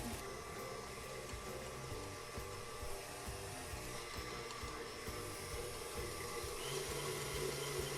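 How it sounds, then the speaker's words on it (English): An electric mixer beats buttercream made with powdered sugar and fresh lime juice at a raised speed, giving a steady, close motor whir that holds evenly throughout with no talking. "I'm just turning up the speed on the mixer so that the buttercream will get nice and fluffy."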